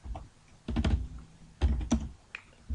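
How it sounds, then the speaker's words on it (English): Keys clatter on a computer keyboard while a search term is entered in a browser, two brief bursts of quick, close taps separated by short pauses. "simply type in the search bar"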